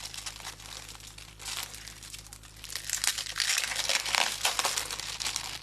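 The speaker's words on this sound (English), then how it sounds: "I thought I'd bring over a couple of other packs of paper." Packs of paper being handled at a crafting table, giving continuous close crinkling and rustling that grows louder and busier toward the end, with no speech.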